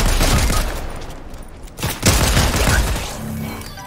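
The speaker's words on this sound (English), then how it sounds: "I'm already getting shot at." Bursts of rapid gunfire fill a Fortnite match, with close, loud volleys, a short lull, then more cracking shots and booms.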